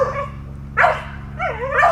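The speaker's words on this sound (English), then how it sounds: "So my dog wants to fight now." A dog lets out two short, loud yelps or barks close by, separated by a brief pause, with a faint steady hum underneath and no talking.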